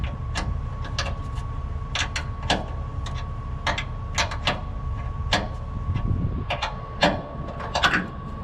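Metal clicks and ticks of a 5/8 wrench tightening a brass air bag fitting on a trailer, a series of sharp close taps over a steady hum, no talking.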